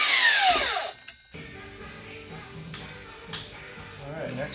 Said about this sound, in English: So we'll just have to drill some holes and screw up like there and there